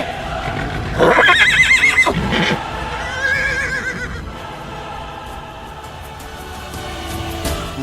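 Horse neighing loudly and close, a shrill whinny with a quavering fall, then a second shorter neigh, with a faint rustle and hoof noise around it.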